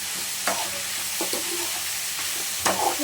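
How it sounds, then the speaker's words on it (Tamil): Tomato and onion mixture frying with salt for tomato thokku, a steady sizzle with scraping stirs of a spoon against the pan at irregular intervals, close and alone. "உப்பு போட்டு நல்லா கிளறி"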